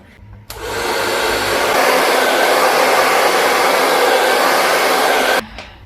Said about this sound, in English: I'm holding my hair from the roots and then I'm blow drying it